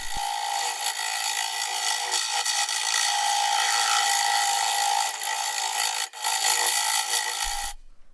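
A lathe tool hogs material out of a super dry, cracked and rotted cherry burl, making a loud, steady scraping roar with a humming tone beneath it. The roar runs almost without a break, then stops abruptly at the end.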